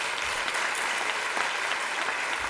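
A warm round of applause from an audience at an evening of sacred Sikh music, a hall full of steady, even clapping heard at a moderate distance without voices.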